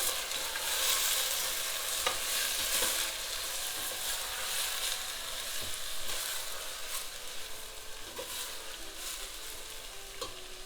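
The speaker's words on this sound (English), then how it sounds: "Give that a little stir." Khichdi with onion sizzling and frying in a pan, steady hiss with intermittent scrapes and clicks of a spoon stirring, close and alone without talk.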